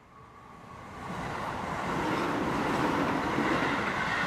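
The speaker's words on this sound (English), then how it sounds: "The train is leaving soon." A train rumbles as it departs, a broad steady roar that swells over the first couple of seconds and then holds loud and constant.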